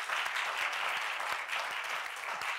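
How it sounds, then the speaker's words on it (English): A church congregation at a Sunday morning service gives a steady round of hand clapping, a dense, even wash of applause heard on its own without voices. "giving a good hand clap this morning"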